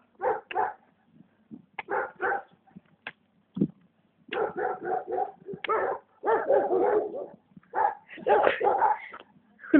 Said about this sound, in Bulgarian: Кучета, нали?